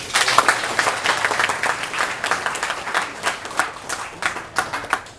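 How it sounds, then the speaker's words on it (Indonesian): A small audience at a poetry and dance performance event claps for several seconds, dense uneven clapping that swells and thins, nearby and moderately loud. "Boleh saya minta tepuk tangannya sekali lagi."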